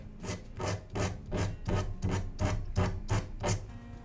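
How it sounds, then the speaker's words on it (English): A wooden model helicopter part being sanded by hand in steady back-and-forth strokes, about nine evenly spaced rasping passes, close and loud with no talk. "So I'm going to sand this down a little bit."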